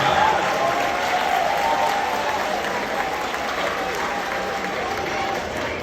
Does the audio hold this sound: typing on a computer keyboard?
no